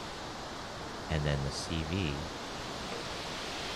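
Synthesized ocean surf built in VCV Rack: a steady, dense hiss of washing noise runs throughout, while someone speaks briefly over it.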